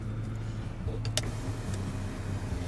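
A rear privacy sunshade screen on a 2014 Lincoln MKS glides along in a steady, quiet electric motor whir under a low interior hum, with a few faint clicks and taps near the middle.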